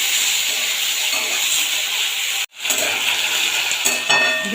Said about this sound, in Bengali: পেঁয়াজ আলু একসাথে করে ভেজে নেবো